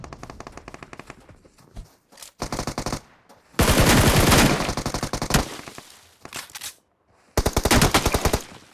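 Loud automatic gunfire in the mobile battle royale game PUBG Mobile, several rapid bursts of close machine-gun fire separated by short pauses, with little else audible.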